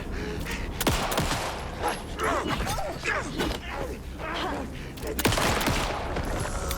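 Shotgun blasts in Alan Wake 2, a few sharp loud shots spaced a couple of seconds apart amid ongoing game noise and clutter, no speech.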